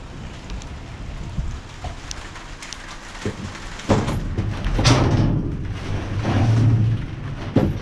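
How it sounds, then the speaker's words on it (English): Heavy rain pouring down outdoors, a continuous hiss of drops striking surfaces, with occasional thuds and a heavier surge of downpour partway through. "Raining now, pouring down."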